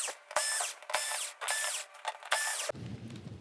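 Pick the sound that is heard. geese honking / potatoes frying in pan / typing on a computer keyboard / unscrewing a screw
unscrewing a screw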